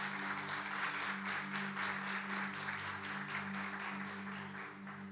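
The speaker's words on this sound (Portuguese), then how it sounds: "Pode aplaudir ao Senhor por isso?" Church congregation applauding: steady, distant-sounding crowd clapping, moderately faint, with a low hum beneath it and no clear speech.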